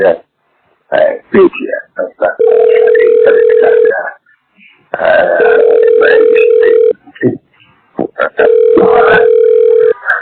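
A telephone call effect in a Bengali audio drama, with short bursts of steady electronic phone tone alternating with expressive, excited voices of actors talking.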